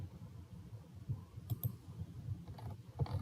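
Computer mouse clicks on a Windows 10 PC, a few short sharp clicks near the middle and end over quiet low room hum, no talking.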